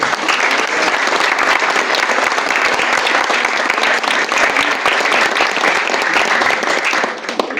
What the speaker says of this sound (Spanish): Es un aplauso.